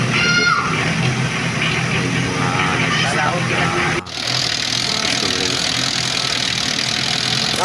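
An Isuzu C190 diesel in an owner type jeep idles with a loud, steady rumble, rough and close, while someone talks over it; a brief dip halfway through.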